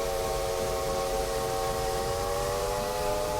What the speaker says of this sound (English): This version of the Mikado has a very Australian-sounding whistle.